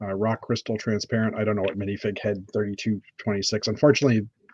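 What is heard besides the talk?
No everyday noise stands out behind the speech.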